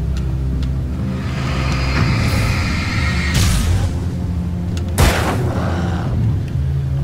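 Gunfire in the Alan Wake video game: a few sharp, loud booming shots with one strong blast near the end, set over a steady low droning game ambience.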